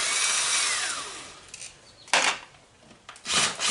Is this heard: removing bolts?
yes